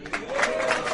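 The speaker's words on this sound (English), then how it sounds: "Wait a minute, don't clap." An audience claps together at a talk on Indian culture in Yercaud, Tamil Nadu, a dense, steady patter of many hands, near and fairly loud, with faint voices mixed in.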